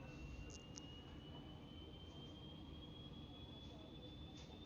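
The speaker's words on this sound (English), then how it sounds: "we'll start to see the engine spool up" A Saab 340 turboprop engine spools up on start in X-Plane 11, a faint thin whine rising slowly and steadily in pitch over a constant low hum.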